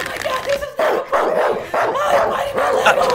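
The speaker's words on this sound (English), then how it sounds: "how much for this dog?" A dog barks repeatedly and loudly up close inside a toy shop, sharp yelping barks in quick succession with a few whimpering notes, filling most of the moment.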